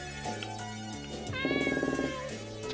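A cat meows in the video game The Elements Genesis, a few short tonal calls over looping game music, one longer warbling meow standing out in the middle.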